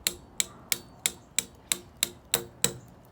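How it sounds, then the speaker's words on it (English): Eight evenly spaced, sharp knocks from a hammer striking bamboo, close and steady like a slow ticking rhythm. "Hammer a little bit harder to get through the joint."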